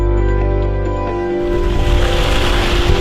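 Rushing ocean surf, a broad continuous wash of water that grows rougher and louder after the first second.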